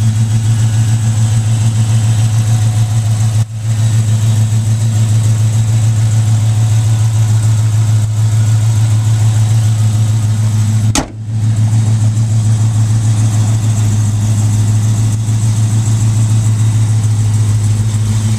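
A Chrysler 300 SRT8 idles close by, a loud steady low rumble with an even throbbing pulse, held almost unchanged for the whole stretch apart from two brief dips.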